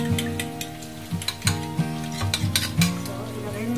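Eggs beaten in a bowl for a quick home dinner, giving a run of quick clinking taps at an uneven rhythm over a steady humming tone in the background.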